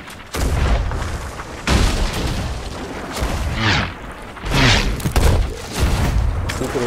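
Repeated heavy booms of ship cannon fire in a naval video game battle, several blasts in quick succession mixed with voices talking over the noisy action.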